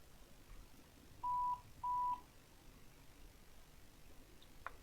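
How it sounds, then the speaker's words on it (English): Mobile phone beeping for a message notification in a garage: two short, faint electronic tones in quick succession, heard at a distance over quiet background noise. "That was my phone in the background beeping because it's got a message on it."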